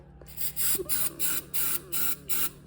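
Seven short, hissing bursts of aerosol starting fluid sprayed into the engine of a John Deere 210 tractor in a quick, even rhythm, close by, over a low steady engine hum.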